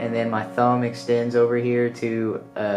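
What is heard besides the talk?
No everyday noises stand out.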